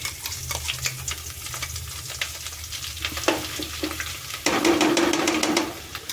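Mint paste dropped into hot oil, a crackling sizzle with scraping stirs that swells into a loud, dense hiss midway as the paste hits the pan, close and without speech.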